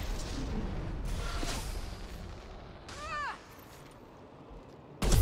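Weapon fire in Mass Effect 2 comes as booming blasts and rumbling impacts, loud at first, then fading beneath a warbling electronic effect, with a sharp final hit at the end.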